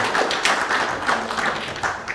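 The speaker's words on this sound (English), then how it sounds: "another big round of applause to him" An audience at a graduate business start-up grant ceremony applauds, a dense patter of many hands clapping, moderately loud and steady throughout, with no talking over it.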